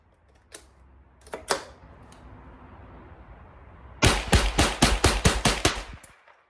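.22 LR survival rifle shots: a few scattered single cracks early, then a rapid string of about eight sharp, loud shots fired in quick succession, close by with no talking.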